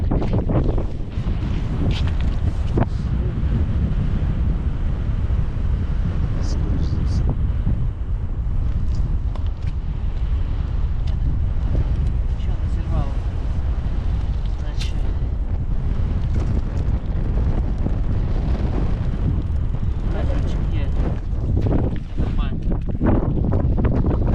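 Strong wind buffets the microphone during night burbot fishing in a storm at sea, a loud, constant roaring rumble that fills the whole stretch, with a voice faintly present underneath at times.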